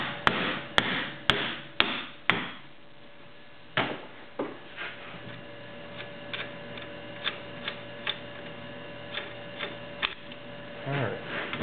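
Hammer tapping on a seized axle stuck in a car's wheel hub during ABS and traction control repair: five sharp metallic strikes in quick succession, then a louder single blow, followed by a series of lighter, evenly spaced taps close to the microphone.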